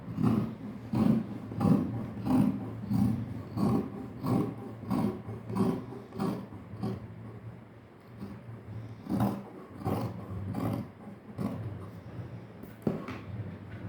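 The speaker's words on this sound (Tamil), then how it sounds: "இப்போ நம்ம இதை கட் பண்ண ஆரம்பிச்சிடலாம்" Scissors cut through stacked blouse fabric in a steady, close rhythm of rasping snips, roughly one stroke per second, with no talking.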